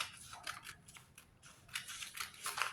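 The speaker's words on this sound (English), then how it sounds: "Cut the shoulder out." Scissors snipping through a paper sewing pattern for a princess seam garment, a run of quick, crisp close-up cuts in short bursts, fairly quiet.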